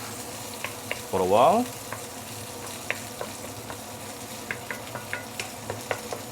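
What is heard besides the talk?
sauteing Sichuan peppercorn in a pan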